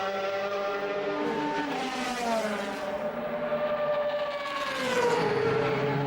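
DTM V8 race cars screaming past during a 2008 touring car race, a loud high-pitched engine wail that rises and falls in pitch as the cars sweep by, with a second car swelling in near the end.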